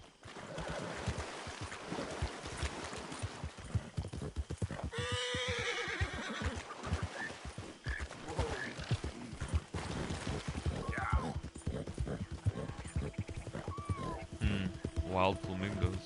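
Horse whinnying and hooves clopping in Red Dead Redemption 2, a loud neigh near the middle over continuous game noise, with someone talking throughout.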